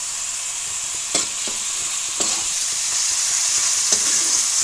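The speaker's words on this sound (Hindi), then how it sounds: "मुसलसल हमने चम्मच चलाते हुए इसको फ्राई कर लिया है ताकि इसका प्याज का कच्चापन दूर हो सके" Chopped onion sautés in a pan for macaroni, a steady bright sizzle throughout with a few soft clicks of a spoon scraping and stirring, close and even, with no talking.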